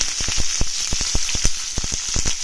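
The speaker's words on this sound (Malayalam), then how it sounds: "ചുമന്നുള്ളി ഇട്ടൊന്ന് വഴറ്റി കൊടുക്കാം" Steady oil sizzle with a bright hiss as shallots sauté, broken by quick crackling pops scattered irregularly throughout, close and fairly loud.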